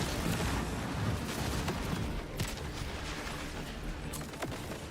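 The Noisy Cricket gun fires in the Borderlands 4 video game, with loud, dense bursts and sharp cracks buried in a chaotic wash of constant game noise.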